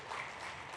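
Audience applause at a 2024 Africa forum session, a brief, faint spell of scattered clapping heard from a distance.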